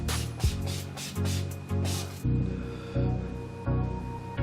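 Makeup setting spray hisses from a pump bottle in a run of short bursts across the face, close and fairly loud, over background music.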